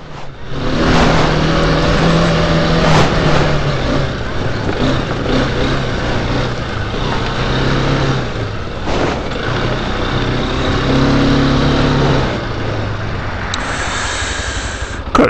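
A quad bike engine drones loudly and continuously while riding a rutted byway in Kent, its pitch rising and falling with throttle changes, close to the rider and with no talk.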